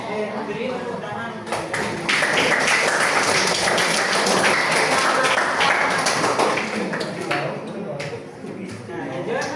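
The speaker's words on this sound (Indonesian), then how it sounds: "Beri tepuk tangan." Classroom applause from students after a group presentation, many hands clapping together in a dense burst that starts abruptly, holds for several seconds and fades near the end, with some speaking at the start.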